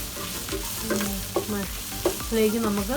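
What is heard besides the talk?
sautéing spices and green chillies in pan for Kerala chicken curry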